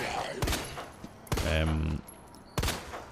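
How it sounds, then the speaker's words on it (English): Three loud pistol shots ring out in the Resident Evil 2 Remake as zombies are fired upon, each a sharp crack with a short echoing tail, spaced unevenly about a second apart. "I use my pistol, because sometimes I have issue with these guys staggering"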